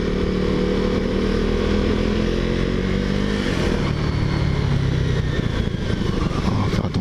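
A KTM Duke 390 motorcycle's exhaust rumbling steadily while riding, a loud close engine drone that shifts pitch midway as the revs change, continuous throughout with no talk.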